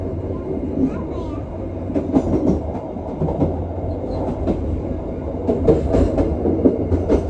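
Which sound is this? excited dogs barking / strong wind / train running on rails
train running on rails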